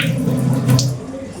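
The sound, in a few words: pouring off water from cooking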